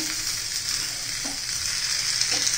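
Potato and varai fasting vadas sizzle steadily in a pan just after being flipped, a continuous bright frying hiss with a couple of faint soft clinks, no voices.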